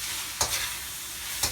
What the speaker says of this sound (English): That's our lovely egg fried rice, all sizzling away in our pan.